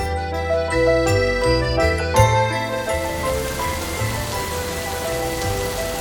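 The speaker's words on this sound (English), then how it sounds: "But that night it rained. It rained a lot." Heavy rain falls at night as a steady, dense hiss that swells in and takes over after a few seconds of light tinkling music.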